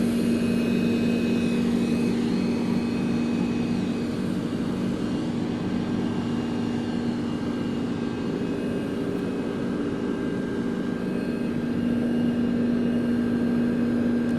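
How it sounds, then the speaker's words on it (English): A passenger airplane departs on a direct flight to Fort Lauderdale from a regional airport in Middle Georgia, its engines giving a steady, loud, continuous roar with a sustained low hum throughout, heard outdoors with no talk. "you are watching the very first departing flight, direct flight to Fort Lauderdale from the Middle Georgia Regional Airport"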